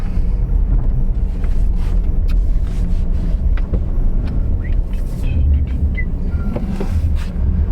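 A 2017 Subaru Outback engine with a P2005 tumble valve fault code runs loud and close, a thick steady rumble as the throttle is worked and eased off, with scattered small clicks and clanks and no talking.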